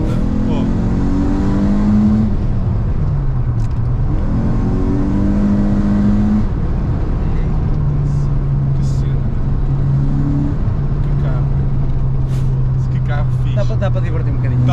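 A Citroen Saxo Cup 16V engine pulls hard through the gears on a road, its steady droning note climbing and dropping with each shift, loud and close from inside the cabin, with people talking over it.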